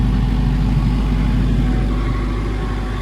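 A Denyo 30 generator set runs under a load test, giving a loud, steady, continuous engine drone with a strong low hum that holds unchanged throughout, with no voices.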